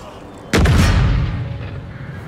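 Cannon and musket volley fire in Total War: Empire: after a quiet moment one sudden loud boom bursts out, followed by a rumbling, crackling tail that lingers close and heavy.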